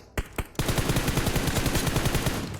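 Loud, close automatic gunfire in PUBG Mobile: two single shots, then a rapid, steady burst of rounds that runs to the end with no talk over it.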